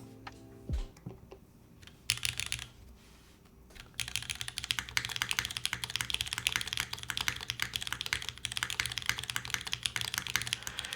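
Mechanical keyboard with Cherry switches, typed on in a custom Mode Loop build: after a few scattered clicks and a pause, fast continuous keystrokes rattle on close and crisp for several seconds, with a faint background hum.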